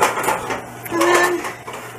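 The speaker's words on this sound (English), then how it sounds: "Stir that raw flour up" Raw flour stirred in a pan for baked macaroni and cheese, a steady scraping clatter of a utensil against the metal pot running through the whole stretch, fairly close and loud, with no voice over it.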